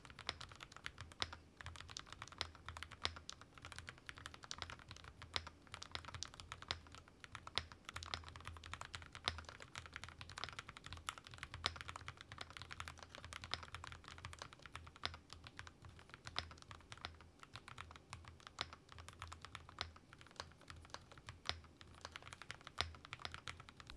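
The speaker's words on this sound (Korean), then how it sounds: "예쁜 키보드를 탁 놓고 업무를 하는 나의 모습을 상상하면서 키보드 타건 들어가 보도록 하겠습니다" A WhiteFox Eclipse mechanical keyboard resting on a Bob Ross desk mat is typed on continuously, a soft, fairly muted rapid clatter of keystrokes at close range with no voices.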